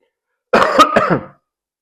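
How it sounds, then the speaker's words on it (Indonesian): A single short, harsh cough burst of a few rough pulses, close and loud, with silence before and after. "langsung saya batuk"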